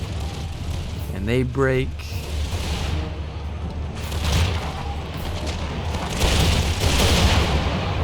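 Flanking musket fire in an Empire mod battle: a voice talks near the start, then rolling booming volleys swell and fade in the background, growing denser toward the end.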